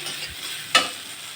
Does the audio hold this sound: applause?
no